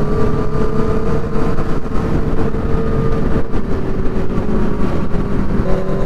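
Yamaha FZ-09 (2014) and Suzuki GSX-R750 motorcycle engines with a dual exhaust on a group ride in New York, a loud, steady engine drone that holds for several seconds without letting up.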